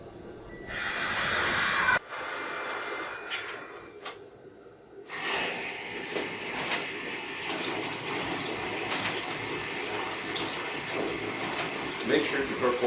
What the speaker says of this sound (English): Click on Espresso Rinsing.